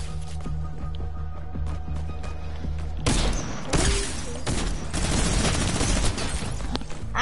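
Rapid video game gunfire erupts mid-match, a dense volley of loud close shots after a quieter start, with bursts continuing through the rest of the fight and a revolver in play.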